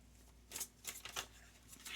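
A tarot card deck is shuffled in a few quick riffling bursts, close and soft, with brief quiet gaps between them.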